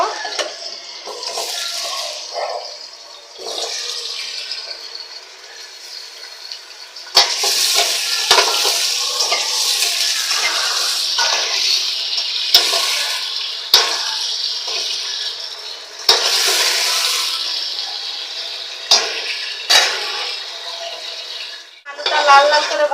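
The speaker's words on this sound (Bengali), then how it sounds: "এটার ভিতরেই আমি আলুটা ভেজে নিব অল্প করে একটু লবণ দিয়ে আলুটাকে ভেজে নেব" Potatoes fry in plenty of salted oil, a bright sizzling hiss that swells and fades with stirring and handling, while a voice talks at times over the cooking.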